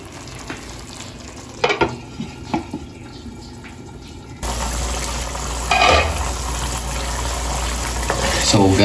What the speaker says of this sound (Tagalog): kumukulo na yung ating gata